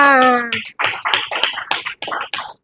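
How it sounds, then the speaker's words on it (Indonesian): Students applauding in a classroom: after a short tonal sound, a brief run of sharp, separate hand claps rings out close by and then stops. "berikan aplaus untuk kalian semua"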